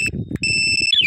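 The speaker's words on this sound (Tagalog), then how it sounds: "Pag nahawakan mo, ma-warning yan. Tapos pag mag-alarm na." A keyless anti-theft alarm on a TMX 125 motorcycle gives off a short burst of high, steady electronic tones over low background noise.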